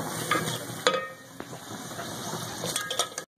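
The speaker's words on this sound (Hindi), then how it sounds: "अब हम इस मसाले में इसको थोड़ा सा भून लेंगे।" Sour spinach (khatta palak) being fried in a spice mix of red chilli and salt, with steady sizzling, a few metallic clinks of a stirring spoon against the pan, and no talking.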